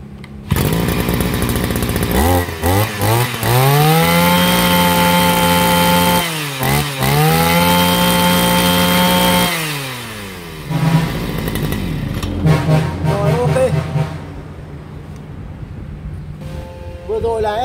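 An Oshima gasoline brush cutter is started and run for a test, its small two-stroke engine revving up and down in loud, close bursts before settling to a rougher idle.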